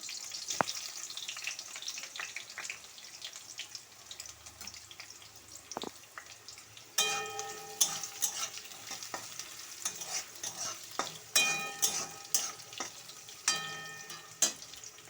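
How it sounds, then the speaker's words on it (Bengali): Onions frying in a pan with whole garam masala and cumin seeds: a steady sizzle with scraping and stirring, growing louder and busier in the second half with sharp clattering knocks of a spoon against the pan. "গোটা গরম মশলা জিরে ফোড়ন দিয়ে দিলাম তার সঙ্গে পেঁয়াজ দিয়ে দিলাম"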